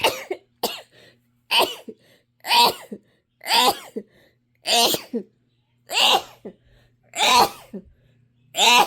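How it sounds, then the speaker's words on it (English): A series of about nine loud, close sneezes, each a sharp burst separated by short pauses of silence. "so I gotta sneeze."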